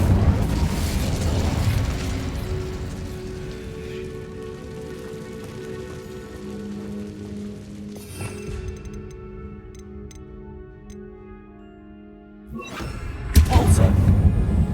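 An Incendio fire spell is cast in Hogwarts Legacy, bursting out as a loud, sudden whoosh near the end. Before it, a steady crackling, rain-like ambience plays over a low tonal drone.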